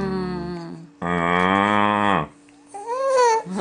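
A child imitates a cow, making long mooing sounds in two drawn-out bursts close to the microphone, with a short babbling lead-in and a pause between.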